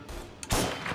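A single sharp sniper rifle shot in the crime game Mafia: Definitive Edition, loud and close, followed by a short decaying tail.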